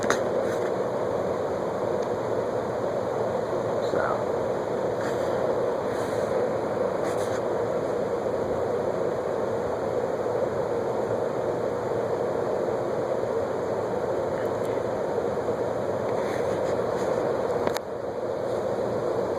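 Chrome A&G Machinery Bentley ceiling fan with mirrored blades running on high at roughly 250 RPM, a steady broadband whoosh of moving air that holds constant and alone throughout.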